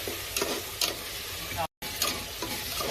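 Mint, coriander, chilli, ginger and garlic paste sizzles in hot oil with fried onions, a steady broadband fry hiss broken by scraping stirs and a brief silent gap, close by with no talk.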